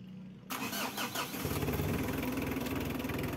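A dirt bike engine at a mechanic's shop is cranked and catches, first a brief sputtering start, then a steady, loud, close idle with a throbbing rumble that continues alone.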